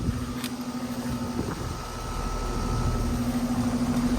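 A 2015 Carrier Comfort 4-ton air conditioner with a Copeland compressor and slow fan runs steadily nearby, a constant low hum with a sustained tonal drone and faint whirring, no talk.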